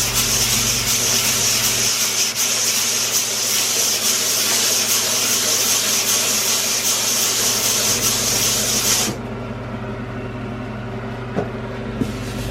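Steady, close rasping of hand sanding with a makeshift sanding block, continuous rubbing strokes that stop abruptly near the end, leaving a quieter hum with a couple of small knocks.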